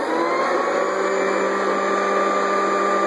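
A Hoover Decade 80 U4 407 upright vacuum cleaner motor runs at a steady, even whine with a constant hum, close and uninterrupted.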